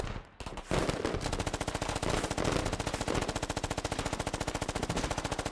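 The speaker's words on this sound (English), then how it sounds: "I'm gonna shoot at it with my machine gun" Machine gun fire in the tactical shooter Squad rattles in long, rapid, evenly spaced bursts after a brief pause, loud and close, continuing without interruption.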